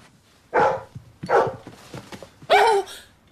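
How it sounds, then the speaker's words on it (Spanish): A lost dog barks three times in close succession, loud and near, with short gaps of quiet between the sharp yelps. "Es un perro que se encontraba perdido."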